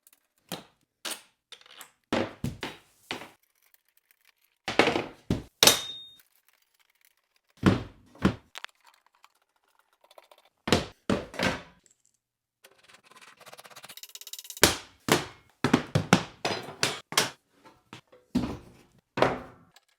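Assembling a wooden kitchen shelf with screws and bolts produces scattered close-up knocks, clinks and thunks of hardware and wood pieces, irregular and sharp, with quiet gaps between handling sounds.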